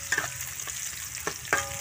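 Sardines with shallots and chillies fry in a pan while being stirred, a steady close sizzle broken by a few scraping utensil strokes, with no voices.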